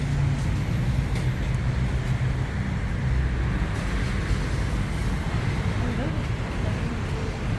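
Dense street traffic full of motorbikes outside a Bangkok night market gate gives a constant low engine rumble and road roar, with no distinct passes.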